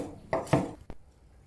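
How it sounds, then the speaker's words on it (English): A knife cuts rehydrated black fungus into smaller pieces on a board: three sharp, close chopping knocks in under a second, then quiet, with no talking. "And then cut it into smaller pieces."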